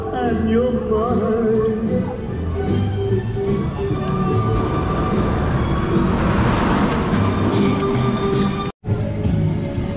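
A roller coaster train rolls through a test run at Thorpe Park, giving off a loud, continuous rumble and rattle that swells midway and then breaks off abruptly near the end.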